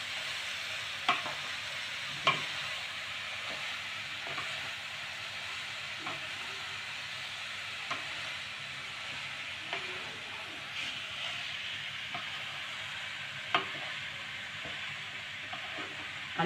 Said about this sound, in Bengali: আমি কিন্তু এই মিডিয়াম আঁচে এটা গাজরটাকে ভালো করে ভেজে যাব।